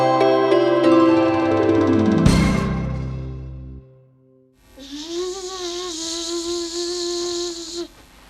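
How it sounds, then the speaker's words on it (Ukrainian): A bee buzzes in flight during a children's Easter performance. After a short musical passage and a pause, one steady, wavering drone runs for about three seconds. "Я бджола, лечу до вас."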